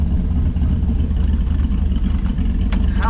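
A junkyard LS engine swapped into a 2005 Chevrolet Silverado, fitted with a Truck Norris cam and high-flow oil pump, idles loud and close with a steady lumpy rumble and faint clatter.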